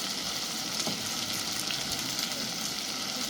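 Garlic sizzling as it is added to a hot pan with meat, a steady, dense crackle of frying over a short stretch without talk.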